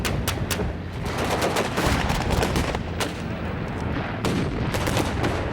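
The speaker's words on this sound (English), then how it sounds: "we already began to see the anti-aircraft artillery in action" WW2 anti-aircraft artillery fires in dense, continuous volleys of sharp reports overlapping a heavy rumbling background, rapid bursts hammering throughout with no pause.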